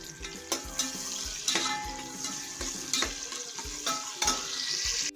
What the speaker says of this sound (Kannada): ಒಂದೇ ಒಂದು ಹಸಿಮೆಣ್ಸಿನ್ಕಾಯಿ ಫ್ರೈ ಮಾಡೋಣ ಅಂತ ಹಾಕ್ಕೊತಾ ಇದ್ದೀನಿ.